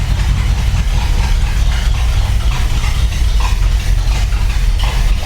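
A new 2019 Chevy Corvette engine runs at a rough idle, loud and close, with a steady low rumble and a faint hiss on top. No one talks.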